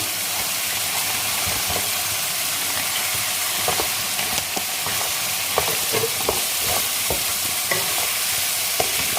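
Steady crackling sizzle of prawns frying in hot oil, with occasional sharp pops and stirring clatter throughout, close and moderately loud.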